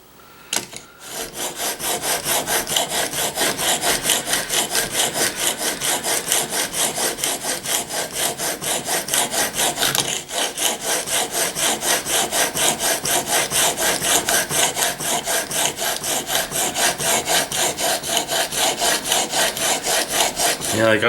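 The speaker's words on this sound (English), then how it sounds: "you just go like this here until the burr comes off" Chisel rubbed back and forth on a sharpening stone to take off the burr, a loud, even run of rapid rasping strokes continuing steadily with a brief pause midway.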